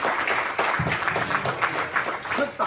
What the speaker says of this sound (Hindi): तालियां थोड़ी कम रही।